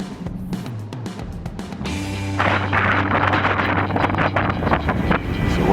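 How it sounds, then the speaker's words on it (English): Strong wind buffets a sailboat at sea in a loud, gusting roar that rises partway through. It mixes with rumbling hull and rigging noise and a low mechanical hum. "What do you do when the wind gets blowing too hard?"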